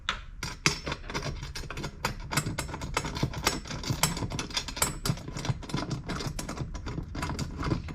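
A socket ratchet clicks rapidly and steadily while tightening a bolt on a DIY wheel and tire roller stand. The close, dense metallic ticking runs without pause over low mechanical handling noise.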